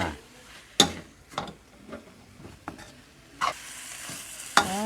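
Pork being stirred and fried in a pan for a fish-sauce stew, with repeated loud scraping strokes of the utensil over a steady background sizzle, close by and with no talk.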